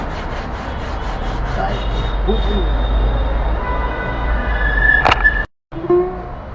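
A guitar part is rubbed down with 120-grit sandpaper in a guitar shop, giving a steady, close scratchy scraping that ends in a sharp knock and a moment of silence before resuming.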